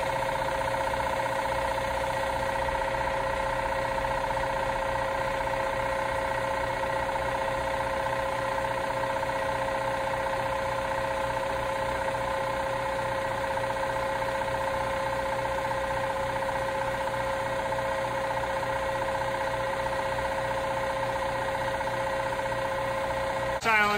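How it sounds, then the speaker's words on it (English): An LH1/LH2 series air compressor pump mounted on a 60-gallon tank runs steadily, a loud, even mechanical drone with rapid knocking pulses and high tonal whine, unbroken throughout. "Mounted on a 60-gallon tank, our LH1 and LH2 series air compressors are approximately 77 DBAs at 8 feet from the compressor package."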